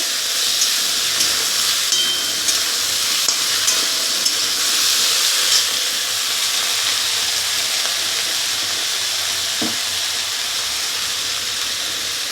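Vegetables sizzle and hiss steadily in a hot frying pan for a shol fish curry with green mango, with constant frying and steam noise and faint stirring throughout, and no talking.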